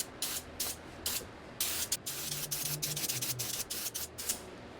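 A spray gun lays clear coat onto the suspension parts of a 1976 Triumph Spitfire during restoration, with repeated short hissing bursts separated by brief pauses, close and clear with no talk.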